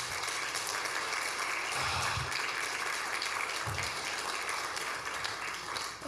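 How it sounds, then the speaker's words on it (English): Steady applause from a church congregation at a Sunday service, dense and even, continuing without a break at moderate distance. "So I'd like everybody to give a round of applause for Amy."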